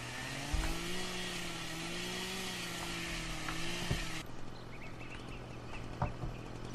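A chainsaw in the Farming Simulator 2013 forestry game cuts through trees, a steady buzzing engine drone whose pitch wavers slightly. It continues for about four seconds, then drops to a quieter background with occasional faint clicks.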